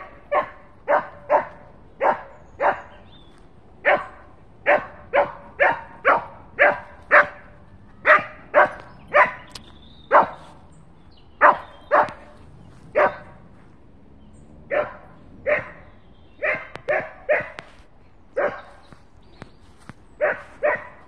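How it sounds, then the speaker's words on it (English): A pet dog barks repeatedly at a cat outside in the evening, steady sharp barks in quick bursts with short pauses, close and loud, with no talking underneath. "I'm glad my dog is barking"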